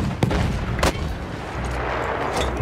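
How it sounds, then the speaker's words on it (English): Mortar fire in the Battlefield video game: a couple of sharp booming blasts over a dense, rumbling battlefield din of distant explosions and gunfire. "Love those mortars, Bruce."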